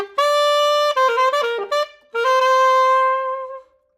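The opening of a recording of a jazz ballad, a single sustained horn-like melodic line playing loud and clear with held notes and brief pauses, sliding between pitches.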